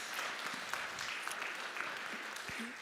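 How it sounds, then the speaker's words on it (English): An audience applauds panelists at a Shabbat service, steady moderate clapping from a crowd in a hall lasting throughout, with faint voices underneath. "Round of applause, please"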